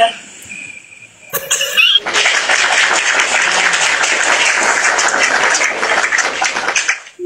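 Sustained applause from a crowd swells in after a brief lead-in, dense and steady for about five seconds before cutting off, loud and close as a comedy sound effect.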